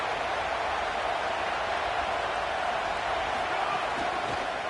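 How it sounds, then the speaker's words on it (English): A big stadium crowd at a college football game roars in a steady, dense wash of noise that holds without a break throughout. "This crowd ready to make its presence known."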